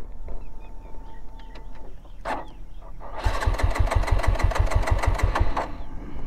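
A TVS Apache RTR 200 motorcycle is cranked repeatedly without catching, a rapid rhythmic chugging of the engine turning over for about three seconds after a brief quieter stretch, with faint birdsong in the background.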